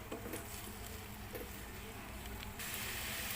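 Chicken sauteing in a pan for a curry, a steady soft hiss and sizzle with faint clinks, close and continuous with a brief rise in hiss near the end.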